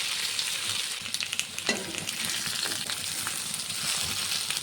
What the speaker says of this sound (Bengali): এই তেলের মধ্যে ফুলকপিটাকেও ভেজে নেব।